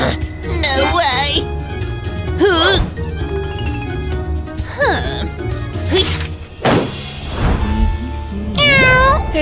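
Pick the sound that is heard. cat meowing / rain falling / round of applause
cat meowing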